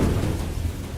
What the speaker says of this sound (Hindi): बारिश कई घंटों से हो रही है।